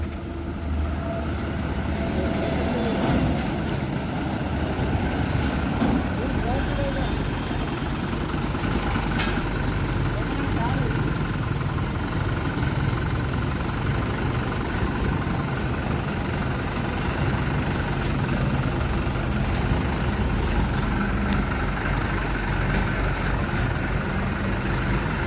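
An Eicher Ecomet truck's diesel engine idles steadily at a workshop, a continuous low rumble with faint clatter and no talk.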